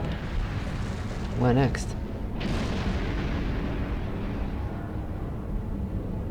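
Quantum torpedoes fire from a starship in the Star Trek Online video game, heard as two quick, sweeping energy bursts over a low, rumbling space ambience. A voice briefly speaks.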